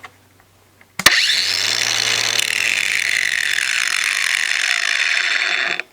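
A Craftsman V20 cordless angle grinder spins up abruptly and runs at a steady high-pitched whine held close, with a low motor hum beneath, before winding down at the end.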